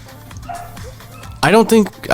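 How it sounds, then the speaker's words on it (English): A dog barking downstairs in the background, a few loud, sharp barks bursting out in the last second after a quieter stretch of low indoor noise. "Sorry if you hear my dog in the background barking there."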